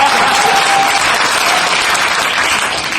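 Alumni gathered for the new Jangseong High School alumni association president's inaugural speech break into loud, sustained applause, a dense even roar of clapping that holds steady for several seconds.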